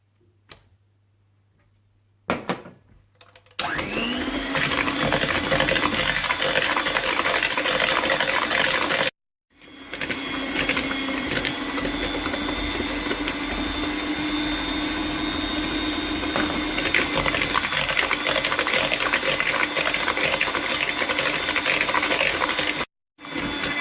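Electric hand mixer beating eggs one at a time into carrot cake batter, a steady loud whir running for several seconds, briefly cut off and then resumed, with no talking.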